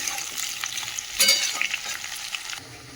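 Capsicum, potato and carrot fry in a pan, with a faint hissing sizzle and light scraping stirs, one louder scrape near the middle, quiet and close.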